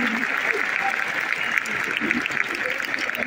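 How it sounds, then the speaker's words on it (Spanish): A church or school event audience applauds with dense, continuous clapping throughout, close and fairly loud, with some voices mixed in. "Un aplauso para ustedes."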